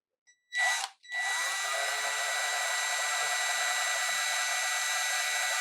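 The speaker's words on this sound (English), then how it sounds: "so I'm going to go ahead and drill." A brief thump, then a small power drill with a number 61 bit whines up to a steady high-pitched spin and keeps running evenly while drilling a jewelry pendant, close and fairly quiet.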